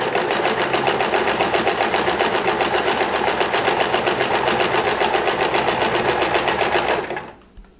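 Sewing machine stitching bias tape onto a fabric pennant banner, a fast continuous mechanical whir with rapid needle clatter that runs steadily before winding down and stopping near the end.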